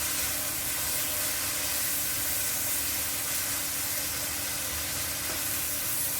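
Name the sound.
chopped onions frying in a pan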